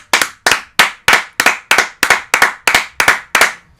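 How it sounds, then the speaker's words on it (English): A samba drumming class claps in unison, about eleven sharp, loud, evenly spaced group claps in a steady rhythm, close and with no talk. "Give yourselves a round of applause."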